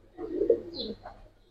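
A Jabra pigeon gives one short, soft coo, a brief murmuring call heard close and alone.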